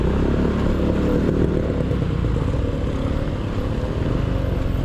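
A motorcycle ridden along a road on a group trip toward Baguio, steady loud engine drone and wind rumble close to the rider, continuous throughout with no voices.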